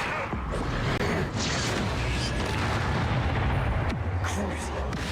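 Bombarda blasting spell erupting in the wizarding video game Hogwarts Legacy, a dense, loud rumbling boom with sharp bursts layered over continuous battle noise throughout.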